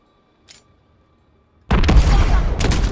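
A truck is blown up amid gunfire in Modern Warfare 2019: after near silence with one brief faint tick, a sudden loud blast erupts and rolls into sustained heavy rumble and crackling shots to the end.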